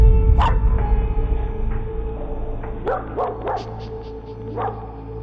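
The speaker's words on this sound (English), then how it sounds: "Could the dog be barking at a ghost trying to get into the house?" A dog on a backyard security camera at night gives several sharp barks and yips, one early and a cluster of quick ones in the middle, over a steady low hum.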